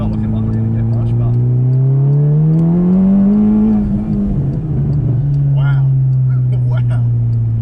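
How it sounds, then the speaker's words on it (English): Stage 3 VW Scirocco four-cylinder making 460 hp revs hard, a loud close engine note that climbs, peaks and settles into a steady drone, with an exclamation from a voice nearby. "This is not your everyday 4-cylinder at all."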